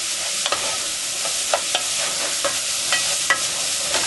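Sausage for gravy browns in a pan with a constant hissing sizzle, punctuated every half second or so by light scraping stirs, near and even.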